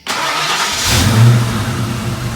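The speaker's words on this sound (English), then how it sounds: "The nice thing is that the car runs so good. It's starting to run really smooth." A 1992 Ford Mustang GT with its 5.0 liter 302 V8 runs steadily close by, a smooth continuous engine rumble that swells briefly in the middle as it revs slightly, then settles back to an even idle.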